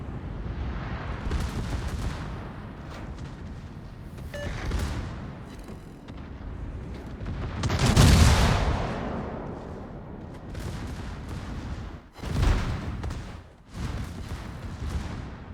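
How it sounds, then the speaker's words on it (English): Battleship secondary guns fire in a naval combat video game, a dense, continuous barrage of booming shots and rumbling blasts with louder swells of explosions, no talk over it. "Secondaries going off again."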